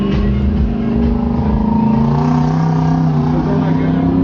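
Drift car driving on the B8 track at the Bikernieki circuit, its engine droning steadily and loud throughout with shifting revs, a continuous close roar with no pauses.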